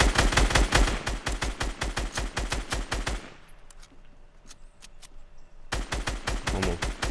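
Fortnite firefight, with rapid evenly spaced automatic gunfire in close, loud bursts that pause for a couple of seconds, then resume, with faint scattered game sounds in the gap.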